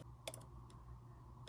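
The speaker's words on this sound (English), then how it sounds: "you're going to start typing in your URL" Quiet clicks of keys on a computer keyboard, a few isolated taps spaced out over a low steady room hum, with no one talking.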